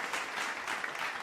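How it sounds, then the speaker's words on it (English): Steady applause from an audience at a talk-style gathering, dense clapping filling the whole stretch with no voices on top. "thank you for that clap"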